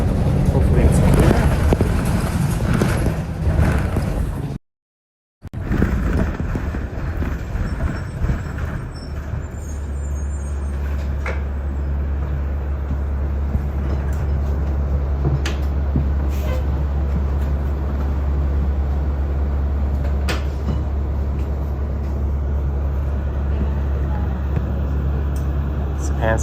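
Interior of a TTC route 60 bus running along Steeles Avenue in Toronto: a steady low engine drone and road rumble continue throughout, with brief clanks and rattles. People talk over it at first, and a short silent gap cuts in near the start.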